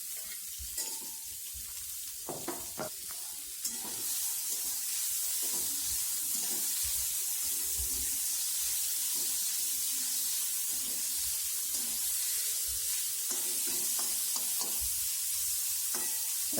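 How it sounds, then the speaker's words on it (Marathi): Chopped onion being sautéed in a pan over garlic, ginger and green chilli while making kalya vangyache bharit. A few clinks of stirring come first, then a loud, steady sizzle and hiss carries on throughout, with no talking. "आता हा चिरलेला कांदा टाकायचा त्याच्यात आणि चांगलं परतून घ्यायचं."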